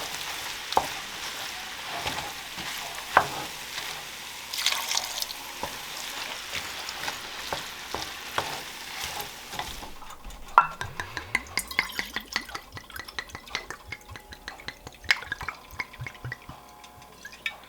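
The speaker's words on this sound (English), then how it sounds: "Add in some beef broth here slowly." Beef broth is poured slowly into a hot pan with tomato paste, producing a crackling sizzle that later gives way to wetter stirring and dripping sounds with scattered sharp ticks.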